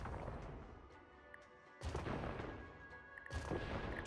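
A bridge is demolished in SimCity 5 with two sharp crashing booms a second and a half apart over a quiet background hum, each followed by a brief rumbling decay.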